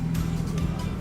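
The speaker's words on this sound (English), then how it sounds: "just warming the car up" Car engine idling and warming up at Santa Pod Raceway during a car event, a steady close rumble with no talking.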